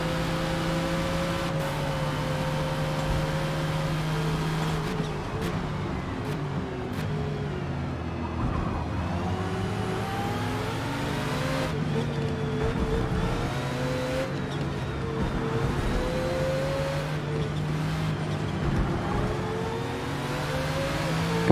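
A Ferrari race car engine in the video game Forza Motorsport drones steadily, with harmonic tones rising and falling through shifts and throttle changes over a long stretch. There are occasional brief clicks and no speech.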